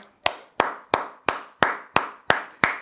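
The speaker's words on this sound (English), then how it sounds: "you deserve a round of applause" Eight slow, evenly spaced claps ring out one by one, each a sharp crack with a short decaying tail, from a single nearby pair of hands on a football talk show.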